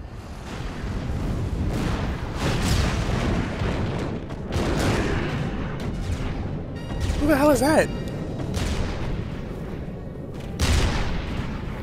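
A girl's arm cannon fires in Gravity Rush: booming blasts come one after another, then a brief warbling energy sound. They are heard under a man's speech and game ambience.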